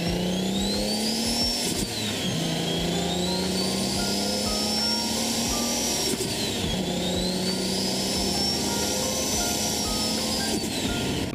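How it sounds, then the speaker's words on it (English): Loud turbocharger whistle from a turbocharged BMW M50B25TU straight-six, rising and falling in repeated spooling sweeps over a steady engine drone with revving, continuous throughout. "basically that is just super loud turbo whistle while it's spooling"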